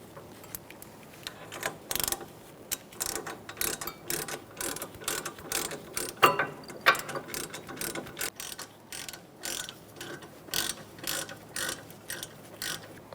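A ratchet tightens the bolts on a Fiat's front brakes, giving off close, rapid clicking in repeated short bursts with brief gaps between strokes.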